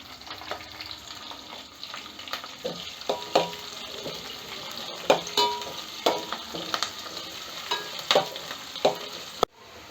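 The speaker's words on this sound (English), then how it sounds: "the onion is going to take some time to cook" Onions frying in a pan for dal curry, crackling and sizzling steadily while a spatula stirs them in repeated scraping strokes, close and clear.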